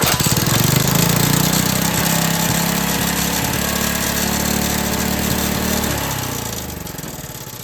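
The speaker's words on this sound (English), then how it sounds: "I do want to adjust that idle because it is awfully high" A $100 mini bike's small engine runs at a high, steady idle while the idle is being adjusted, a loud, close, continuous drone that drops off slightly near the end.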